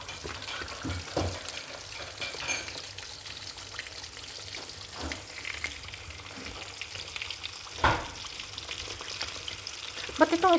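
Mackerel frying in a pan at lunchtime gives a steady, moderate crackling sizzle with scattered pops and a couple of louder spatters near the end, with no speech.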